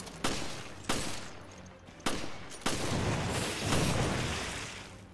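Gunfire in the video game Resident Evil Revelations: four sharp, loud shots at uneven intervals, each one a sudden crack followed by a rumbling tail over a dense background of game noise.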